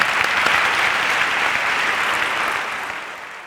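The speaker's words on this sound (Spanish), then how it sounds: "Un fuerte aplauso" Sustained audience applause after a talk at a professional conference, dense and steady at first, then gradually tapering in volume toward the end with no voices on top.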